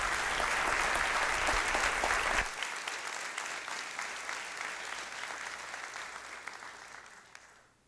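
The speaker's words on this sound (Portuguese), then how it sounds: "Você pode aplaudir a palavra do Senhor nessa noite?" Congregation applauding in a church service, a dense burst of clapping that cuts back sharply after a couple of seconds and then trails off gradually into quiet.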